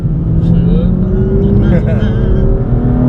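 A BMW M2 engine at about 40% throttle gives a loud, steady low drone from inside the car, pitch climbing gently as it accelerates, with faint voices over it.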